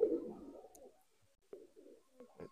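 A Nildumma pigeon, an old hen, gives a few soft, low coos in short separate bursts, close and quiet against a hushed background.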